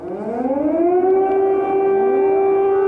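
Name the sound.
air raid siren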